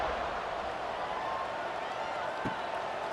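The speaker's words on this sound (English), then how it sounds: "this crowd is buzzing after that last score" Football stadium crowd at an American football World Cup game between China and Germany, buzzing steadily after a score, a broad continuous roar with no clear voices standing out.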